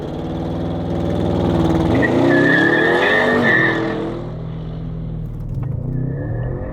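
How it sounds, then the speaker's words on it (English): An Audi RS6 or S6 launches hard off the line in a four-wheel-drive burnout, its engine climbing loudly while the tires squeal and squirm, then the revs drop away and settle to a lower drone. "It was like fishtailing down the line in like a four-wheel drive burnout."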